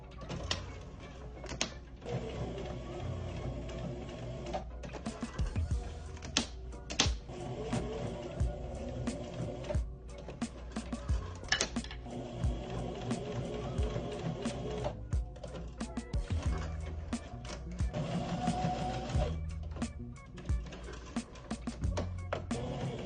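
A sewing machine basts along the top and bottom edges of corset boning casings, a busy, fairly loud mechanical chatter of rapid stitching with short pauses and stops throughout.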